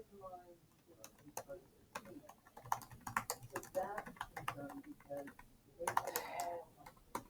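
Rapid, irregular clicking of a computer keyboard being typed on, close by, with a voice talking softly underneath.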